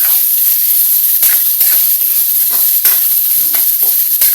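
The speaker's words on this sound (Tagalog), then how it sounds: "gigisa ko muna" A hot pan sizzles loudly and steadily as food is sautéed for a cabbage dish, with garlic and onion on hand, and occasional stirring scrapes break through the continuous frying hiss.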